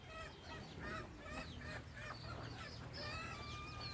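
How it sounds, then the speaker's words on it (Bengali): Ducks and chickens let out in the morning, giving a dense, continuous chorus of nearby clucking and honking quacks that overlap with no pauses. "সকালবেলা আমার হাঁস মুরগিদেরকে ছাড়া হয়েছে"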